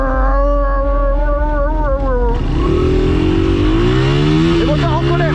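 Motorcycles rev on a Paris street, the engines whining and climbing in pitch, loud and close, with a second machine joining partway through.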